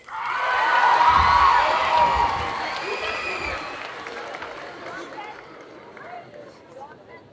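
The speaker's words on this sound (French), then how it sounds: "Un tonnerre d'applaudissements pour Ifleni en Jinx." Applause and cheering swell from a crowd for a cosplay contestant dressed as Jinx at a Japan Addict convention contest, loudest early then tapering into scattered clapping and crowd noise.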